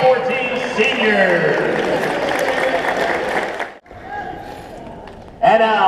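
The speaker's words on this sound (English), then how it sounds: "Let's have one more round of applause for the 2014 senior." Audience applause at a 2014 college volleyball senior night ceremony for Cal State East Bay, a sustained dense roar of clapping that cuts off abruptly, followed by a brief quieter stretch before clapping swells again.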